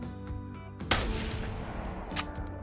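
A single loud 7mm rifle shot fired at a moose in a hunting game, a sharp blast that rolls into a long echoing decay, with a fainter second report or thump near the end.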